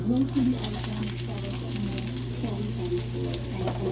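Chopped onion goes into a hot pan where pork is frying for kaldereta, producing a loud, steady sizzle and crackle that fills the whole stretch, over a low hum.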